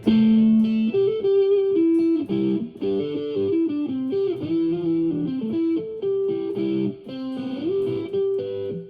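A sustained distorted electric guitar amp tone with a high-pass filter at 100 hertz, playing a melodic line of held and shifting notes, loud and steady throughout.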